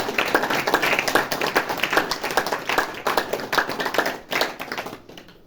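An audience at a motivational speech applauds with brisk, dense clapping that swells and dips before fading out at the end.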